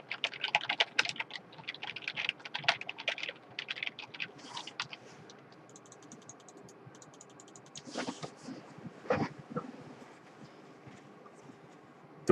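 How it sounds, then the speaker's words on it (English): Someone types on a computer keyboard picked up by a Logitech HD Pro Webcam C920 mic about three feet away, giving quick bursts of clicking keystrokes and then a few louder isolated clacks and pauses. "Here's me typing on my keyboard"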